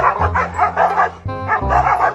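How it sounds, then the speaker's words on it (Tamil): Two dogs fight over a bone, loud close barks and yips coming in rapid bursts with short whimpering gaps, no human voices. "ஒரு எலும்பு துண்டுக்கு இந்த ரெண்டு நாய் சண்டை போட்டுட்டு இருக்கும்போது"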